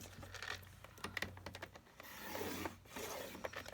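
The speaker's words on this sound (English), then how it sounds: "And I need to score it in half both ways." Paper or cardstock is scored in half for a craft project, giving quiet, close scratchy strokes and rubbing with small taps, repeated in short bursts.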